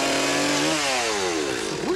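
Chainsaw running close by with a steady buzzing drone, its pitch dropping sharply as the bar bites and jerks back in a kickback demonstration, then briefly rising again.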